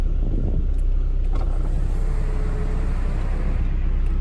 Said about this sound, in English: I'll put the windows down so you can hear the car or hear the vehicle.